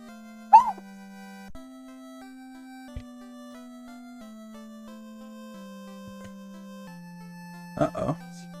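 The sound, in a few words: dog barking and whimpering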